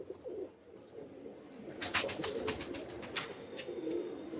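Teddy pigeons of the Kamagar, Oman and Saki breeds coo softly at a pigeon sale in Kolkata, low murmuring calls under faint background noise with a brief run of sharp clicks partway through.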